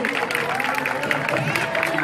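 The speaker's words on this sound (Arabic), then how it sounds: "نعم تصفيق عالي" Audience applauding a primary school theatre play, dense sustained clapping from a crowd, loud and continuous, with a voice speaking over it.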